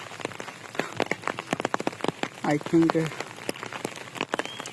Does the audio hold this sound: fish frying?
no